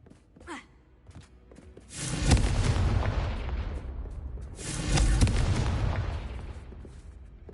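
A Confringo blasting spell detonates in Hogwarts Mystery, two heavy booming blasts a few seconds apart, each swelling and rolling off, loud and close, after a brief voice.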